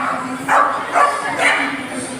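A dog barks three times in evenly spaced, moderately loud yaps over a steady low hum, heard from somewhere out of sight.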